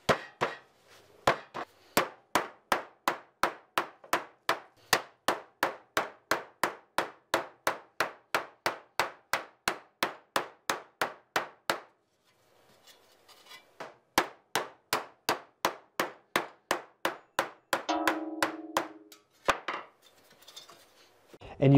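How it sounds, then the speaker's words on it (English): Hammer blows shaping sheet metal over a sandbag ring out as a long run of sharp, evenly paced clangs, then a brief pause, then another steady series that ends with a ringing, resonant strike and some shuffling. "And you can shape it with a hammer like that."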